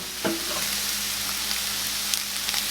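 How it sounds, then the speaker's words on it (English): Ground beef sizzles loudly in a pan as seasoning and herbs toast with it, with a steady hiss that runs throughout and a few stirring scrapes and clicks. "I'm just going to give this a little mix and let these toast up just slightly."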